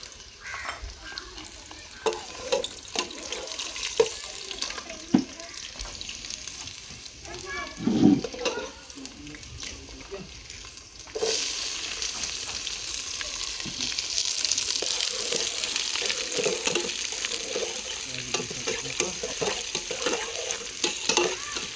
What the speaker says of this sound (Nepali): अब चाहिँ हामीले यहाँ हाल्नेवाला छौँ लसुन।